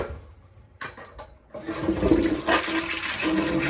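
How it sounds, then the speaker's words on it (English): A toilet with its water supply shut off flushes with a rushing, gurgling surge of water that builds and stays loud, after a few quieter clicks and handle sounds. "So you just give it a few flushes."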